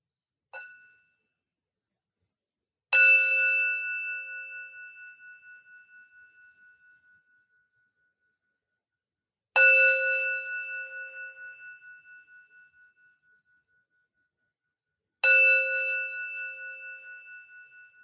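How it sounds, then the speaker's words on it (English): A closing bell at a Buddhist Vesak service is struck three times at slow, even intervals, each bright metallic strike ringing out alone and fading over several seconds, after a faint initial tap. "Now we'll have a closing bell."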